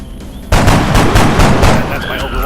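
Loud burst of automatic rifle fire in XCOM as a soldier's overwatch shot triggers, a sudden onset followed by a rapid string of close cracks lasting about two seconds.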